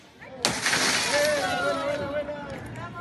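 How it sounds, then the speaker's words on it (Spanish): Police officers smash a car window in a city centre, a sharp shattering crack followed by the crunch and tinkle of breaking glass, with voices talking over the scene. "un par de golpes en el vidrio y lograron romperlo."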